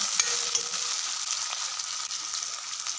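Raw banana kofta frying in a pan of oil, a steady bright sizzle with small crackles and pops, fairly faint and without talk.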